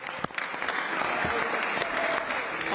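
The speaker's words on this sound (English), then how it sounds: "Let's just go ahead and give security a round of applause for getting up here and helping us out real quick." A press conference audience gives a short burst of steady clapping for security, dense and continuous with a few voices mixed in.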